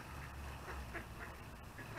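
Ducks quack faintly at a pond where people are feeding them, with a few soft repeated calls that stay low in the background.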